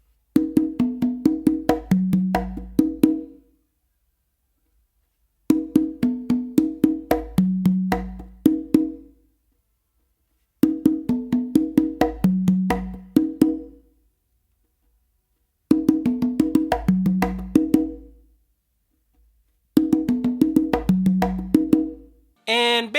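Tumbao groove played by hand on a set of three congas, with open tones, slaps and muted strokes repeating in five short phrases separated by brief silences, close and clear with no talking.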